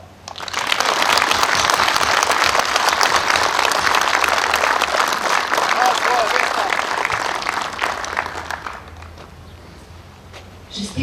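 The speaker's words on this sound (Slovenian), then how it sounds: "Brigada, en aplavz." A Slovenian Army logistics brigade audience applauds at its anniversary celebration, a full, dense burst of clapping that swells quickly, holds strongly for several seconds, then thins and fades toward the end.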